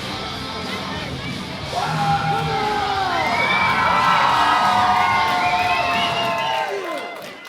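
A wrestling crowd cheers, yells and whoops for a wrestler's ring entrance, a loud, dense roar of many voices swelling and holding at a steady level.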